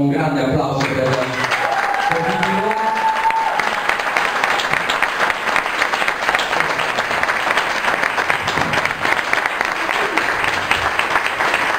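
Long burst of crowd applause for a newly sworn-in contrada committee team, starting just after a speaking voice and settling into a dense, even roar of clapping that holds loud and steady to the end.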